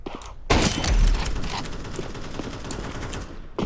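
Rapid automatic gunfire from a cheat in a first-person shooter game rattles out in a dense, continuous burst of shots, loud and close, running nearly the whole clip after a brief quiet start.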